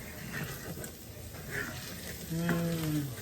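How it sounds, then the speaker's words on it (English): Finely diced onion and jalapeño fry in bacon grease with a steady, low sizzle. A brief tonal squeak of a utensil rises near the end, and no one speaks. "I'm gonna throw in 1/2 cup of finely diced onion, 1 finely diced jalapeño. Start letting this cook."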